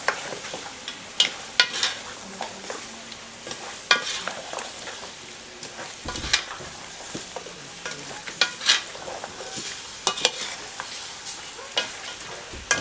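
A pot of pig's trotter daube with crushed spices is stirred, the spoon scraping and clacking in irregular knocks over a low background sizzle, fairly close and with no talking.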